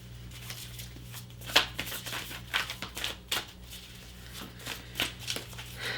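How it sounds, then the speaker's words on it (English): Close, soft riffling and tapping of tarot cards being shuffled, in quick irregular bursts with a faint hum underneath. "Sometimes I like to just pre-shuffle and cut the decks, and other times I want to shuffle more."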